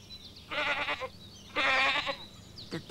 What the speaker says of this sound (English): for a goat.